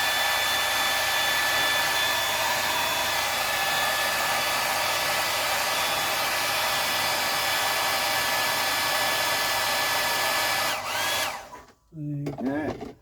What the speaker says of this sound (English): There is a little air bubble there, so I might heat it up with the air gun.